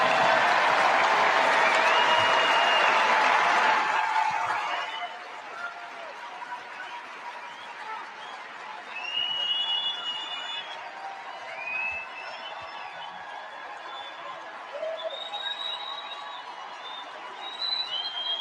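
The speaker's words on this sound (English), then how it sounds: "he let that applause go on, didn't he?" Audience applause at a talk, loud dense clapping for a few seconds that fades into lighter scattered claps and crowd murmur with whistle-like tones.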